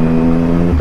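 A motorcycle engine hums steadily with a close, loud, even drone, then briefly dips and changes tone near the end as a quick-shifter gear change cuts power.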